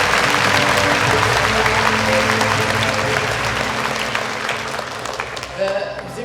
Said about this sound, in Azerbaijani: Mən istərdim ki, onlar üçün bir alqış səsləndirəsiniz.